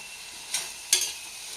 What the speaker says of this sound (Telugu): ఆనియన్స్ రెడ్ కలర్ వచ్చే వరకు ఇలా సిమ్లో పెట్టుకుని బాగా వేపుకుంటూ ఉండాలండి